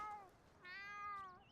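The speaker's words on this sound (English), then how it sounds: "Stop shouting at the cat" A pet cat gives two clear meows, the second longer and rising, heard faintly and close with no other voices, apparently in a Sims video game.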